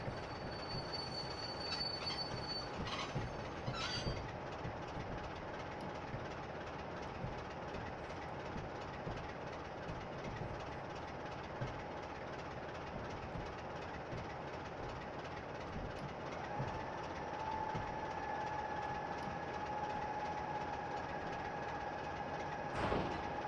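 A freight train near Tallington on the York–Peterborough line rumbles and clatters as it brakes to a stop. Near the end, a sustained high metallic wheel squeal rises and holds over the rolling noise, heard from close by.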